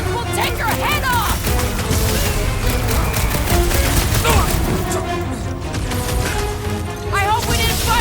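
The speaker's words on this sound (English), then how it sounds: "Those Nova Corps cannons will take your head off!" Nova Corps cannons fire in a Guardians of the Galaxy game battle, a dense barrage of booming blasts and rapid shots layered over music and combat noise, with voices shouting through it.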